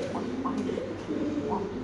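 A penci pigeon at a farm gives several soft, low coos in quick succession, close by, over steady background noise.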